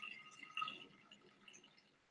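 Water poured into a bottle, a faint, soft trickle with one brief brighter splash, then thin dribbling that tapers off.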